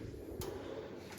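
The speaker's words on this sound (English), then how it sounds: "Drawer slides are strong." A drawer slides on a Snap-on Epiq 68-inch steel toolbox, giving a quiet rolling glide with a soft knock as it moves and a fainter click at the end.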